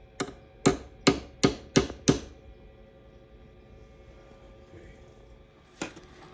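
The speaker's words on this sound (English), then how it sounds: "Back in the same hole and punch it." Six sharp metallic hammer taps on a prick punch into metal in quick, even succession, then quiet, then one more tap near the end; close and crisp, no talking.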